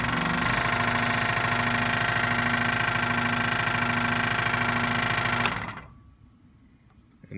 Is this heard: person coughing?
no